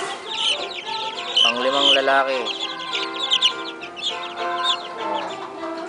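Chickens cluck and chatter close by in a farmyard, a busy overlapping mix of hens and young roosters with a longer rising call, while someone speaks briefly over them.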